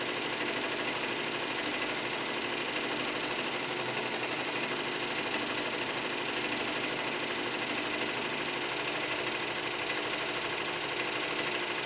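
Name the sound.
embroidery machine stitching a fill area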